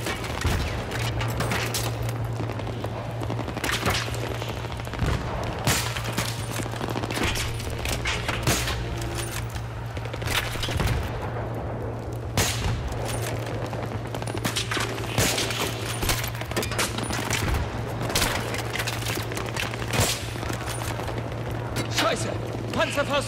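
Battlefield 3 campaign gunfire rattles in rapid bursts of sharp pops and booms over a steady low hum, with voices in the background.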